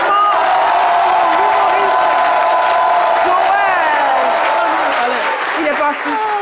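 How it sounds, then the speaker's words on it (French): An audience claps and cheers loudly for a television show guest, with whoops and shouts mixed into sustained applause and voices rising above the crowd throughout. "Applaudissements."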